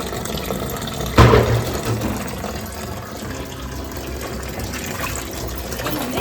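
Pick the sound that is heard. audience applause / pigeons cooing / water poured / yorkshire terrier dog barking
water poured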